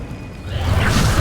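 A levitation spell is cast in Hogwarts Legacy, a soft swishing whoosh that rises out of low ambient game sound and swells over about a second.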